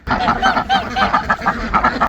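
A female duck quacks loudly and repeatedly at close range, a fast run of harsh, nasal calls on a homestead with no talking over them.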